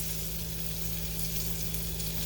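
Floured beef for stroganoff sizzles steadily in a non-stick skillet with olive oil and butter, a close, continuous frying hiss with a low hum beneath and no voices.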